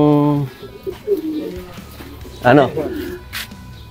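Soft, low coos of racing pigeons sound a few times near the start and again midway, mingled with nearby talking.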